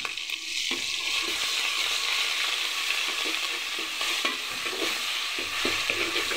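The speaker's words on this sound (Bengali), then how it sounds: "আমি এটাকে একটু ভালো করে ভেজে নিই" Ginger-garlic and cumin paste with a little salt frying in hot oil, a steady close sizzle running throughout with scattered scraping clicks of a spoon stirring the pan.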